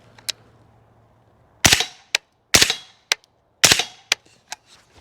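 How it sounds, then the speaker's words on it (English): Several sharp gunshots from a firearm fitted with a Picatinny light and laser combo, fired at a target on a range, loud and close in uneven pairs and singles with short echoing tails. "let's do a couple shots on target"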